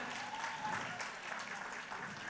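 An audience at an awards ceremony applauds a winner with steady, dense applause heard from a distance, with faint voices mixed in.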